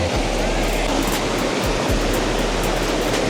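Rushing water from a waterfall in Yosemite National Park roars in a dense, steady wash that stays loud and even throughout.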